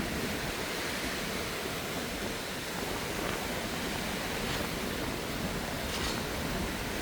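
Surf and strong wind roar continuously on Boracay beach, a dense, unbroken wash of noise with faint swells and no voices.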